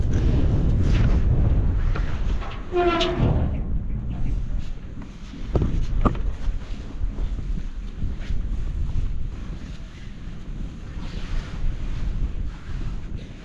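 Steady wind buffeting the microphone, a constant blustery roar with a few brief gusts and bumps, no talking.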